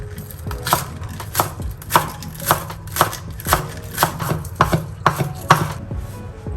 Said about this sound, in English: Next, we have to cut some spring onions.